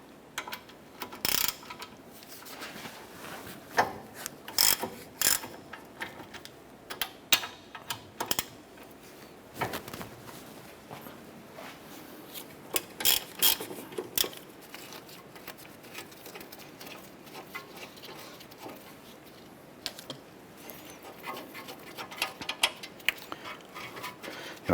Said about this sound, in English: Using a 17mm socket, we're going to go ahead and remove our brake caliper bracket bolts.